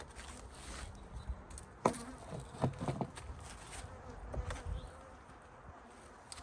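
Honeybees buzz continuously at a hive in spring, a soft droning hum with occasional louder passes as individual bees fly close.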